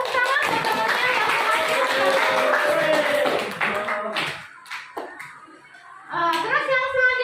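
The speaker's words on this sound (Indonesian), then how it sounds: "beri tepuk tangan buat temannya" Classroom applause for a classmate, a few seconds of brisk mixed clapping from students together with children's voices, fading out before a teacher starts speaking again.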